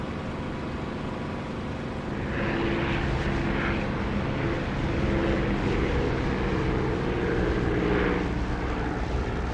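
An aircraft approaching to land in the DCS flight simulator video game drones steadily with a loud engine and propeller hum that grows a little stronger partway through.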